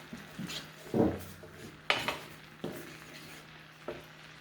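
Utensil stirring and scraping a bowl of lemon juice, salt and pepper, a few sparse clinks and scrapes of metal against the bowl at irregular intervals, fairly quiet and close.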